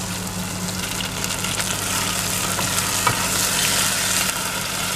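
Tofu fries in a small batch of oil in a pan, giving a loud, dense, continuous sizzle with light spitting crackles and the occasional scrape, and a low hum underneath.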